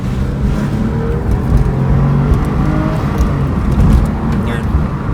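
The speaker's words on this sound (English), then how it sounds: "I can maybe go through the gears a little bit aggressively while I have it on video" A 2004 Porsche 911 (996) engine revs loudly as the car accelerates hard through the gears, a steady close roar from inside the car with a voice talking over it.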